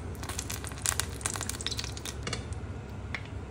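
Minced garlic and chopped onion sizzle in hot cooking oil, a steady close frying hiss with small crackles and stirring scrapes, no talking.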